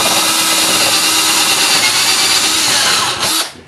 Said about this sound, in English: So all I have to do here is drill these holes